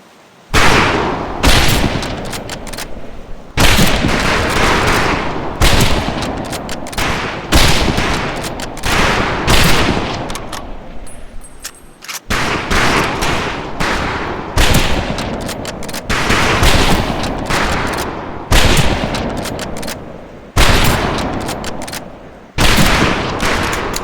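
Rifle volleys crack over a boot camp firing range in the World War II game Medal of Honor: Pacific Assault, loud and close, as many overlapping shots in rapid bursts broken by short pauses.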